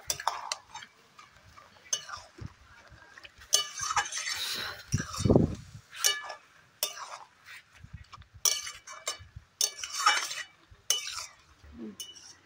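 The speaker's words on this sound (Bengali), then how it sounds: "দিয়ে এটাকে খুব ভালোভাবে মিক্স করে নেব।" Cabbage curry being mixed with garam masala in a pan, with repeated scraping, clinking spoon strokes against the metal in uneven bursts and a faint sizzle between them.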